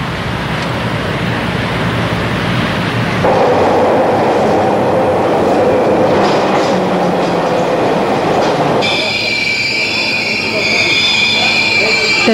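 An underground railway train in Beijing rumbles steadily and loudly throughout, with wheel noise shifting midway and a high squeal emerging near the end, heard from on board.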